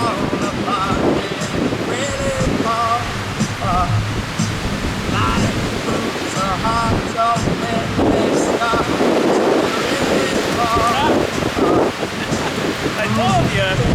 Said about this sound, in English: The wind will just take it.